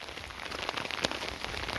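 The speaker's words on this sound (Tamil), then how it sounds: "மழை வேற பெய்யுது" Steady rain pattering on a hillside temple trekking path, a dense close hiss of drops with a few sharper individual splashes, no voices.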